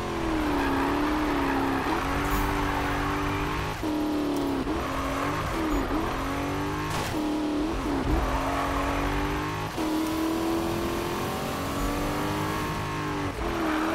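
The American muscle car in Need for Speed (2015) drives steadily with a loud, continuous engine drone. The revs dip and climb again every couple of seconds as the gears shift, with no voices.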